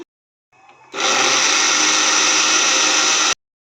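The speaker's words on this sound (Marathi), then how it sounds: "आणखी थोडं आपण याला मिक्सरमधून काढून घेऊया" An electric mixer grinder whirs at full speed as it grinds peanut chutney. After a short low hum, the motor jumps to a loud, steady whine that holds for over two seconds and then cuts off sharply.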